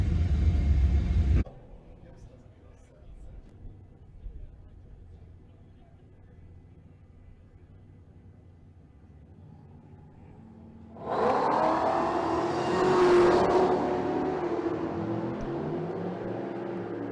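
A hot rod drag car at a drag strip roars briefly, drops to a low idling rumble, then erupts into a loud, sustained engine roar as it launches down the track.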